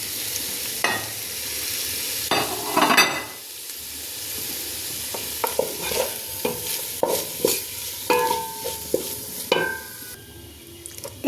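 Chicken pieces sizzle with garlic in a hot pan while being stirred. A soft frying hiss runs underneath, with repeated scraping and clinks from a spatula or spoon close by.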